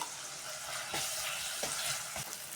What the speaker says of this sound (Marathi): आता टाकूया टोमॅटो, हिरवं वाटण टाकायचं. छान परतून घेऊया टाकून सर्व.